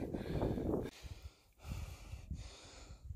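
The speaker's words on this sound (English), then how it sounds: "Forgive me for breathing like I'm about to die," Close, heavy breathing of a trapper winded from hauling two big beaver traps outdoors on a windy day, a few labored gasping breaths with wind buffeting between them.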